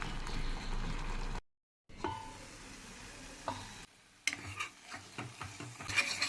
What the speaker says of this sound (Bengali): কষতে থাকবো ততক্ষণ যতক্ষণ সুন্দর পেঁয়াজ এবং আদা, জিরে আর কাঁচা লঙ্কার একটা সুন্দর ফ্লেভার বেরোচ্ছে